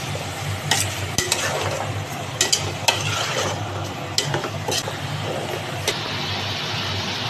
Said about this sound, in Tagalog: Haluin lang natin para mabuti guys.